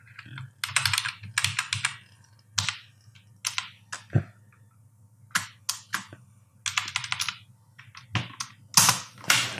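HTML code typed on a computer keyboard, close-up clusters of rapid key clicks broken by short pauses and occasional heavier single presses like the Enter key, with no voice over the typing.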